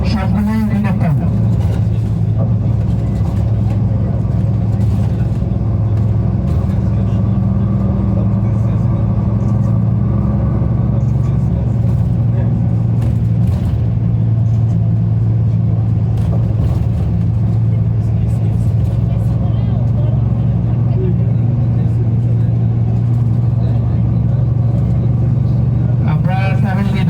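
Steady engine rumble and road noise inside a bus driving through the Muzdalifa and Mina area near Mecca, loud and continuous for the whole stretch, with talking heard over it.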